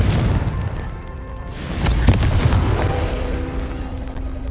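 A Confringo spell explosion in Hogwarts Legacy, a loud booming blast with a rumbling tail that swells again midway, heard over a dense game background.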